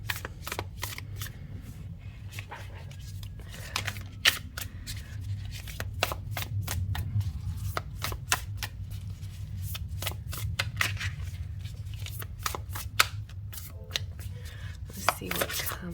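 Tarot cards from a Simplicity Tarot deck are shuffled in a steady run of crisp, papery riffles and flicks close by, with a low hum in the background and no talk.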